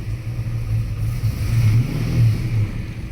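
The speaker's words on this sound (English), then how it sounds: "The entire car shakes as soon as it comes up off of idle." A Ford Fox Body car's engine runs steadily and rises slightly off idle, a low rumbling drone with a rough, shaking character, heard up close with no talk.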